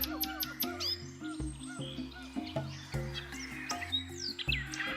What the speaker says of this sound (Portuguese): Entre os habitantes desse cenário aéreo estão as aves, como as araras, papagaios e tucanos